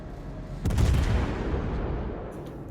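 Warship main guns fire in World of Warships, a sharp heavy salvo blast followed by a long deep rolling rumble that fades gradually, fairly close and loud with no talk over it.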